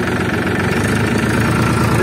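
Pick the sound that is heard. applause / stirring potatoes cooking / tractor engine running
tractor engine running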